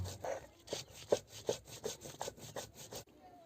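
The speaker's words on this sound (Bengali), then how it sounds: "কয়েকটা গোটা গোলমরিচ আর ধনে এগুলোকে কিন্তু আমি কোনোরকমভাবে রোস্ট করে নিই গোটা মশলাটাই আমি বেটে নেব" Whole cumin, black pepper and coriander being ground by hand on a stone grinding slab with a stone roller, giving rhythmic scraping strokes about every third of a second, close and fairly loud, ending abruptly.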